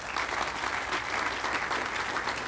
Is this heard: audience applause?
yes